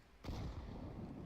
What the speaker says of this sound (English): Deploying flashbang.